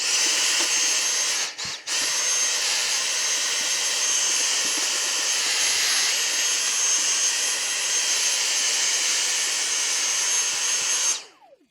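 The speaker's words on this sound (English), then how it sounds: "Just hoover out any debris that's down in here." A loud, steady motorized whine of a vacuum cleaning debris from a Renault Clio's battery tray runs continuously, briefly dipping once near the start before cutting off at the end.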